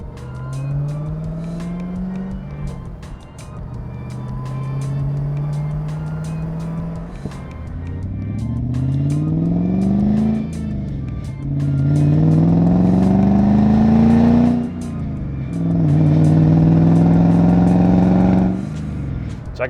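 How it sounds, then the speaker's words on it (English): A manual Lexus IS300 with a swapped-in 3UZ V8 engine, driven up through the gears. The engine note climbs and drops with each shift, loud and close, with no talking over it. "I'm driving a manual IS300 that's got a V8 in it."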